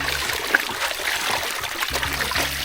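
River water diverted into a bathing spot, trickling and splashing steadily and close by, a continuous wash of flowing water.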